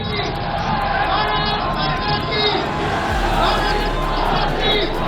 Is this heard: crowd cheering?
yes